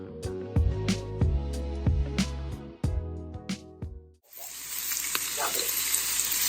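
Shrimp sear at high heat crowded into a pan, a loud steady sizzle broken by clattering strikes of a utensil against the pan, then a broad hiss of frying that continues alone to the end.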